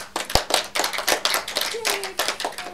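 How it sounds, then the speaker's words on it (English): Applause from a small audience at a livestreamed master's programme session: a brief burst of close, crisp hand claps in an uneven rhythm, with a short voice heard partway through. "That was a good applause."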